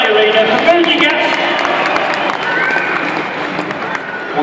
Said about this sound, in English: give me a nice cheer, let's hear it all around the arena